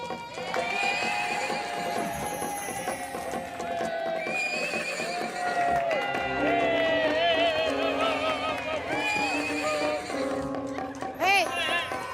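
A horse neighs and whinnies several times over close, continuous layered sound with hoof clip-clop in the mix, while voices talk intermittently underneath.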